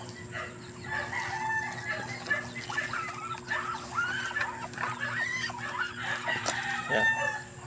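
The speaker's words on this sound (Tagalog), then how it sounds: "nag-aaway yung manok" Farm chickens fighting over feed, with repeated squawks, clucks and crowing close by, busy and overlapping against a steady background hum.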